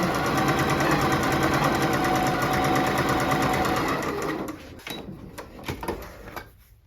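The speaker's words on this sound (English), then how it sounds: "Now I'm going to flip my whole line and sew on the other side of it." A sewing machine stitching half square triangles runs in a fast, steady buzzing whir for about four seconds, then stops and is followed by fabric rustling and handling.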